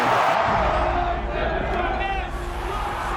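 A big baseball crowd of over 54,000 in Oakland roars in a continuous wash of cheering and shouting, loud and sustained throughout, with a voice speaking over it.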